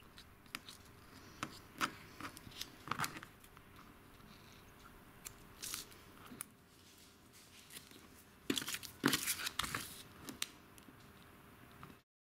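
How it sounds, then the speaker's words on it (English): Scissors snip loose threads close to the stitching of a sewn clear vinyl pouch, giving faint, crisp clicks scattered irregularly, with a quicker cluster of snips near the end. "All that's left to do is cut those loose threads off"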